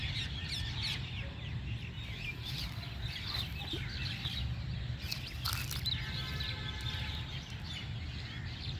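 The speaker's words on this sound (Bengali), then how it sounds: "আর দূরে সেই পাখিরা কিচিরমিচির করছে।" Afternoon outdoors beside a water tank, with clucking chickens and assorted chirping birds scattered at a distance over a low, steady background hum.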